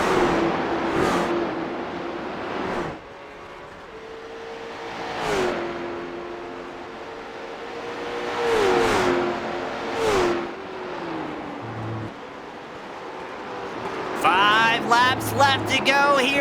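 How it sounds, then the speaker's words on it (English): Late model race cars lapping Watkins Glen in a racing video game, a steady droning engine tone rising and falling through gear changes, with several cars whooshing past, under continuous commentary. "I think that's going to be David Hill in the 43 machine, who's going to be fighting to stay on the lead lap here."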